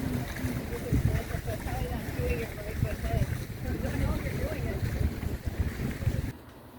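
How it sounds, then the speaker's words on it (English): A catamaran out sailing, with continuous wind buffeting the microphone over the rush of water against the hull, loud and close throughout before cutting off near the end. "we did take a day off to go sailing with my aunt and uncle on their catamaran"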